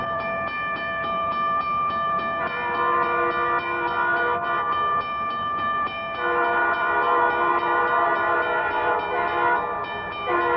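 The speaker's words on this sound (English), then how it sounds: "struck by the train at 60 miles per hour" A train approaches at speed, its horn blaring in long, loud sustained blasts over the rumble and clatter of the wheels on the tracks.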